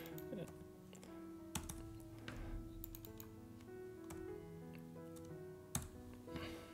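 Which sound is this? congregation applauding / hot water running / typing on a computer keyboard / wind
typing on a computer keyboard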